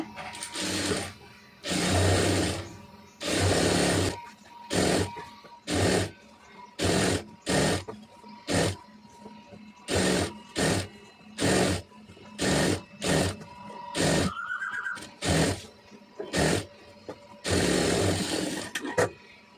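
Domestic sewing machine stitching a folded hem on a cigarette pant, running in repeated short bursts of rapid needle clatter separated by brief pauses, close and fairly loud with no talk.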